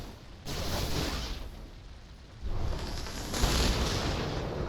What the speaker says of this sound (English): let's see if anything happens when you use the wall of flame